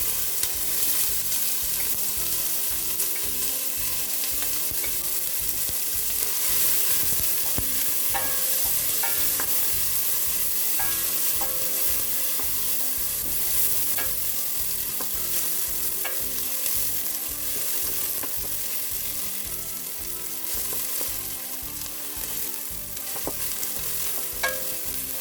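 Chopped medium onion frying in about half a cup of hot oil for khichuri, a steady close sizzle with repeated stirring scrapes throughout, no voices.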